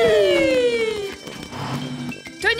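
A cartoon fire engine siren wails with a falling tone, loud and close, then gives way to busy engine and clatter noise in a children's animated show.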